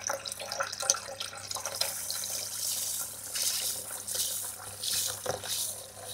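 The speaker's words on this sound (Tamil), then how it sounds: "இப்போ அவ்வளோ நல்லா தண்ணியில் கொட்டி ஊற வச்சுப்போம்" Water pours steadily into a container to soak food for a village-style meal, a continuous splashing, rushing stream close by with no voices.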